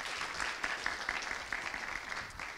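Fairly faint audience applause for a candidate at a thesis-in-180-seconds final, a steady crowd clapping with a few sharper claps standing out, heard from some distance.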